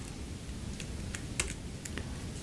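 Keyboard shortcuts typed on a computer keyboard while running Python code: a handful of sharp, separate key clicks over a steady background hiss, fairly quiet and close.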